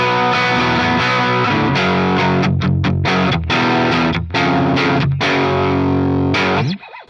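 A Gibson SG electric guitar through a Marshall amp, pushed by an EQ pedal boost, rings out loud, distorted chords with a few brief gaps and a sudden cutoff at the end.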